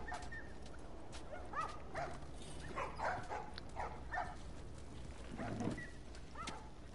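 A dog in The Last of Us Remastered gives several short barks and whimpering yips scattered over a steady ambient background, fairly near, with faint voices now and then.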